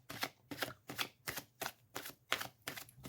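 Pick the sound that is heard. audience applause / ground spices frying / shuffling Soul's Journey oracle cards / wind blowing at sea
shuffling Soul's Journey oracle cards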